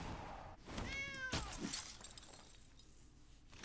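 A cat creature in the MTG Arena digital card game gives a short rising-and-falling meow over busy game effects, with a glassy shattering crash nearby.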